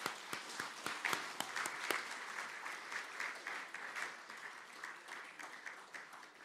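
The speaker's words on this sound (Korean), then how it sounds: "우리 박수로 축복하도록 하겠습니다" A church congregation applauds during a Sunday worship service after a baptism, steady clapping from many hands at moderate distance, continuous for several seconds with no voices over it.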